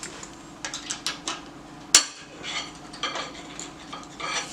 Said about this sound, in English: all you need is a flathead screwdriver to pop that clip out